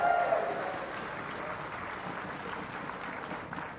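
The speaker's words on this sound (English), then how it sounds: "Can we get another round of applause for these teams for a great final?" A crowd at an esports grand final (CLG vs TSM, IPL4) applauds the teams, a steady wash of moderately loud clapping and crowd noise that holds evenly throughout.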